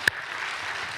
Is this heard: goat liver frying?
no